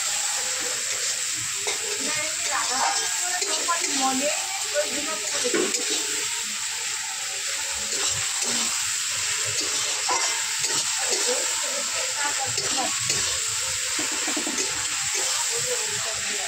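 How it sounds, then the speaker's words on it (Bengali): A loud, continuous sizzle of tomato, ginger and garlic spice paste frying in a pan, with scraping and stirring noises and faint background voices throughout. "টমেটার আর আদা রসুন দিয়ে মশলাটা ভালো করে কষিয়ে নেওয়া হবে"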